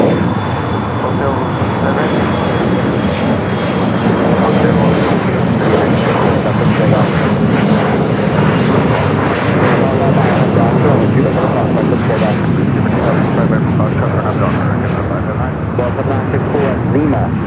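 A United Express SkyWest airliner at LAX roars loud and close with its engines, a sustained powerful rush that swells slightly midway and keeps going.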